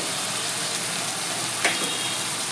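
Spice paste fries in oil in a pan for a fish curry, a steady close sizzle with a brief stir or crackle near the middle, no talking.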